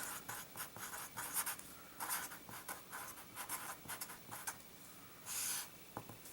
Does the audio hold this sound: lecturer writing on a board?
yes